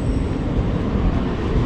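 A train at Ichhapur railway station, a local train line bound toward Ranaghat, gives a steady, even rumble of rolling wheels and engine noise that fills the whole moment without pause or voices.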